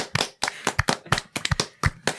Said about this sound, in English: we should all clap